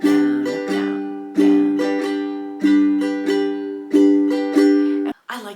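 Ukulele strummed with a two-beat down strum: bright, ringing chords struck in steady pairs of downstrokes, repeated about four times, close and alone before the last chord is cut off.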